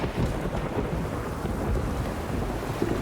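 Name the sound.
rain and thunder in video game The Witcher 3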